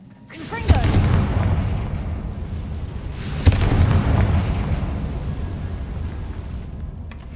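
Two booming explosions from the Confringo fire spell in the video game Hogwarts Legacy, each a sharp crack followed by a long rumbling roar, loud and close with a second blast a few seconds after the first.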